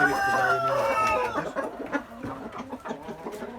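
A chicken crows loudly up close, followed by softer clucking and scattered farmyard noise.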